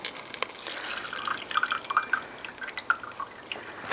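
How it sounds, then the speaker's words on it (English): Rendered chicken fat poured off from a pan during chicken and dumplings cooking, heard as a steady stream of small, close drips and trickles with no talk. "I'm going to pour off this chicken fat."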